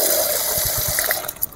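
Water pours into a container set out for animals to drink, a loud close splashing gush that tapers off with a few final drips and sloshes.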